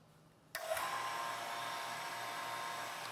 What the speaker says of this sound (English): and start the vacuum pump.